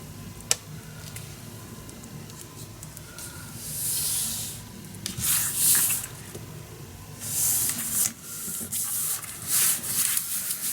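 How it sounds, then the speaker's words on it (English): A bone folder burnishes paper down onto a handmade mini album, making quiet, repeated hissing rub strokes in several short bursts. "There we go, burnish this down the best you can. I also like to use another bigger bone folder."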